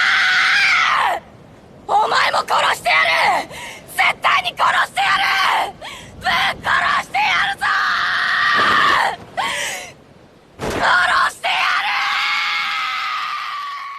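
A boy in an anime scene screams and yells in rage, loud, strained bursts broken by short gaps, ending in one long drawn-out shout.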